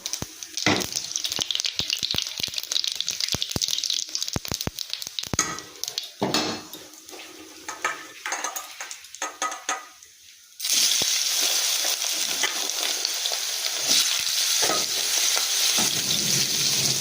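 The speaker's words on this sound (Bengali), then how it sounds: "এবার আলুগুলো দিয়ে আলুগুলো ভেজে নেব" Loud, continuous sizzling of potatoes frying in hot oil with cumin, with stirring clatter, dipping briefly before surging back to a steady crackling hiss.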